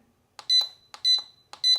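A Mosaic MH306V alarm keypad sounds three short electronic beep pairs, each a quick double bleep, spaced about half a second apart, crisp and close in an otherwise quiet room.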